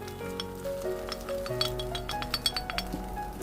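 Chaya leaves and egg stir-fried in a pan give a steady sizzle with quick metallic clinks and scrapes from a utensil, under a background of sustained musical tones.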